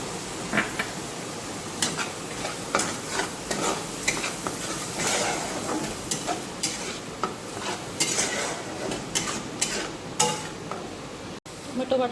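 Ginger garlic paste sizzles in a hot pan while a utensil stirs and scrapes it, making a steady frying hiss broken by sharp, irregular metallic clicks, close by and with no talking.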